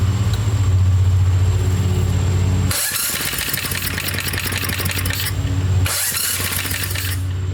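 A 5.5 hp Tecumseh small engine on a Doodle Bug mini-bike is pulled over, then catches and runs with a loud rattling putter, cuts out briefly, and fires up again nearby.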